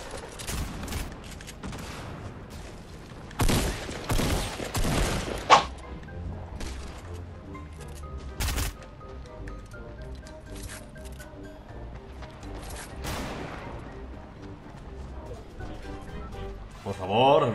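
Shotgun blasts in Fortnite smashing through structures, several sharp loud bursts in quick clusters early on, then a single heavy shot and a later one, with game sounds and music between them.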